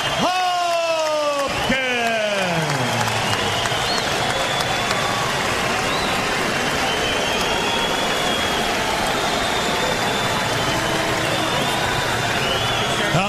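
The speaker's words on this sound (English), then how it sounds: "the crowd indeed on its feet, cheering their hometown hero" A boxing arena crowd on its feet for hometown hero Bernard Hopkins, a dense, steady roar of cheering and applause that fills the whole stretch, with an announcer's voice ringing out over it at the start.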